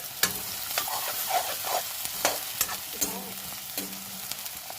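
Onions fry softly in a pan as a utensil stirs and scrapes, giving quiet sporadic knocks over a steady low sizzle, with no voices.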